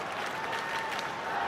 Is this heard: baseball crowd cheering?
yes